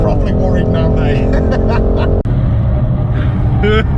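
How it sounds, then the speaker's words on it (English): A 2021 BMW M440i driven hard around a track lap, a loud continuous engine roar from inside the car with an abrupt gear-shift break midway, under excited voices. "That is a quick, fast lap in the new BMW 440i"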